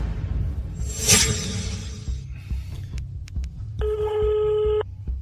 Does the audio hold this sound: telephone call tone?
yes